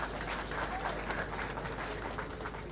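Steady crowd applause fills the closing ceremony of the Raja Bhoj sailing championship attended by the Chief Minister, a continuous, moderately distant patter of many hands over a low hum.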